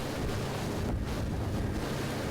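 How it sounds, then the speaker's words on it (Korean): Wind buffets a boat speeding over the water off Muan, raising a white wake. The gusts roar hard against the microphone, with splashing waves and hull noise beneath a constant rush. "반나절 동안 흘린 땀을 씻어내주는 바람소리"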